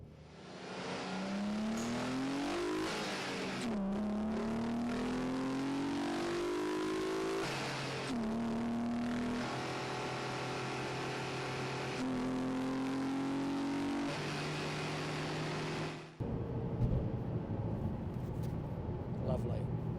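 MG ZT car engine revving close by, with repeated rises and falls in pitch, loud and sustained, then shifting to a rougher, broader roar near the end.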